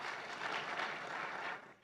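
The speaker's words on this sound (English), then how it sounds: "So applause for that" Audience applause at the 2024 ICPC North American Championship awards ceremony, a short burst of clapping that fades out at the end.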